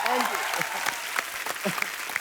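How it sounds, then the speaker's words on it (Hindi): A studio audience on a television comedy show claps in a lively burst, with a voice briefly heard among the fairly moderate applause. "जोरदार तालियां सिद्धू साहब के लिए।"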